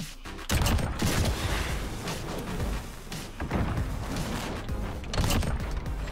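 Gunfire from Call of Duty: Modern Warfare on the Shoot House map comes in loud, dense bursts of rapid automatic shots with thumping impacts, several separate volleys across the stretch and no voices.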